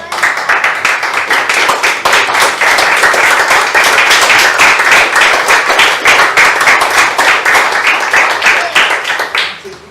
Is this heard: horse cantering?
no